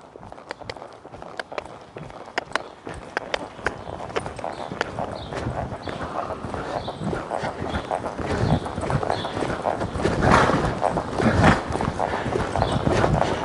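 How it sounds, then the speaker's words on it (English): Hooves of a mare loping under a rider, a steady rhythmic clip-clop of footfalls that grows louder and denser toward the end, with no talk over it. "I'm gonna see if I can pick her up into a lope with that headset."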